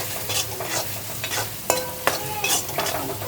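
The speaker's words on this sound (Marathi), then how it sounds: "आता याच्यात आहे ना सर्व सुका मसाला टाकून देते" Dry spice masala frying and being stirred in a pan for brinjal bharta, soft sizzling under repeated scraping strokes of a spoon against the pan, close and fairly quiet, no talking.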